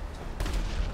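Airstrike explosions in GTA 5 Chaos Mod: a sudden loud burst of booming blasts and crackling rumble that cuts in sharply and keeps rolling for the rest of the brief moment.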